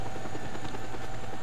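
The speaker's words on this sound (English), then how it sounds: "There goes my helicopter." A helicopter's rotor thumps in the video game Just Cause 2, a rapid, steady beat with a droning engine hum, loud and close for a brief moment.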